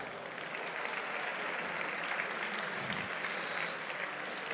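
Sustained audience applause at an award ceremony on a main stage, a continuous dense clapping from a large crowd, fairly even in level from start to finish.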